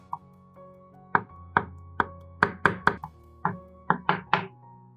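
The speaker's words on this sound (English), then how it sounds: "I'll chop a garlic clove." A knife chops a garlic clove on a cutting board in a kitchen, a string of about a dozen crisp, close taps in uneven bursts over a faint steady hum from the stove, with no talking.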